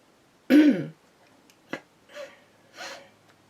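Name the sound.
coughing and throat clearing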